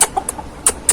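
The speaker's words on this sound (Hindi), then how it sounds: "जोड़ी मुर्गी और मुर्गा।" A hen and rooster pair kept at a family home cluck in short, close bursts, with three or four sharp calls spaced across a brief moment and no talk.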